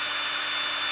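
A power drill grinding through a metal T-blade to elongate its holes, a steady broadband whir with no bit changes, heard close and loud throughout, no talk.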